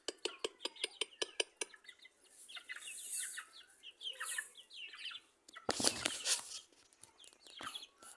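Chickens cluck softly and intermittently on a small village farm that also keeps ducks, after a quick run of sharp tapping sounds.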